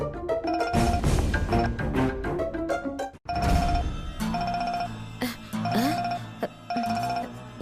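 A bright electronic ringtone melody plays repeatedly, fairly close, mixed with clinks, thumps and other busy background sounds.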